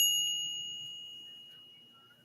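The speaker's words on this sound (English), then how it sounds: "that was the sound of a air fryer or toaster oven" A single bright electronic ding from an air fryer or toaster oven in a home kitchen, a clear tone that rings out and slowly decays in a quiet room.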